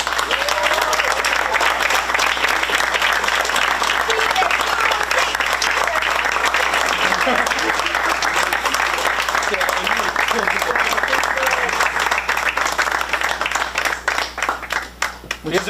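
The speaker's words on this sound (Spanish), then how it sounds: "se merecen también este aplauso" An audience at a school music recital applauds with loud, sustained clapping that lasts about fifteen seconds before starting to thin out at the end.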